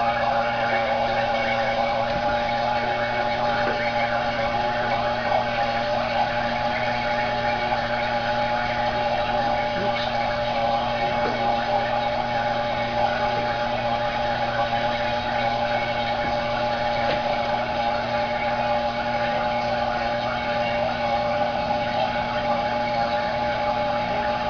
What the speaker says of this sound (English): I've got it hooked onto the vacuum pump